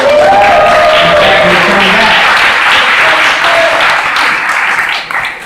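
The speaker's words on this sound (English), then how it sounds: "So please give him a big round of applause" A crowd at a Louisiana community gathering breaks into loud, sustained applause, thick and continuous clapping that holds steady before tapering off at the very end.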